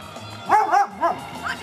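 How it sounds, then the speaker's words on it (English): A dog barks close by at a campsite in Point Farms Provincial Park, Ontario, a few quick yips and woofs in a short burst. "And that's our dog, one of our dogs barking."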